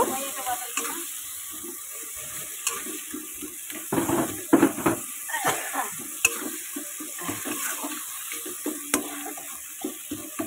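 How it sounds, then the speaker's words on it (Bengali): Water is poured into a pan of frying masala for a fish curry, giving a steady sizzle and bubbling with clinks and stirring scrapes, and a voice talks briefly in places. "এর মধ্যে আমি এখন জল দেব"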